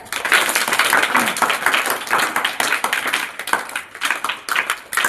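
Audience clapping at a village primary school commemoration event, dense, steady applause filling the whole stretch with uneven swells and no voices over it.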